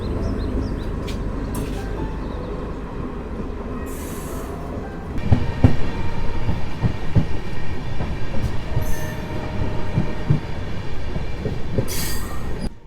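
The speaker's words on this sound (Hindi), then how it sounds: "अभी हमारी ट्रेन रखियाल स्टेशन पे पहुंच रही है" Diesel electric multiple unit passenger train arriving at Rakhiyal railway station in Ahmedabad, with a steady rolling rumble, then rhythmic wheel clatter over rail joints and occasional brief squeals at moderate distance, no talk.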